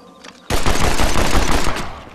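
Rapid burst of gunfire from the Western video game Red Dead Redemption, a loud sustained volley of shots starting abruptly and tapering off near the end, with no talk over it.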